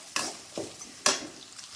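Onion and garlic sautéing in a pan, with three or four short bursts of sizzle and stirring scrapes against a quiet, low background.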